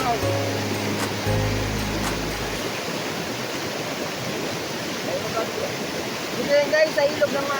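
Floodwater in the river at Maasin dam in Brooke's Point, Palawan, a broad continuous rushing roar, with low rumbling at the start and a few faint voices near the end.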